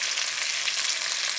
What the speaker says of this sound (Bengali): কচুটা হালকা আছে, একটু সময় ধরে ভাজতে হবে।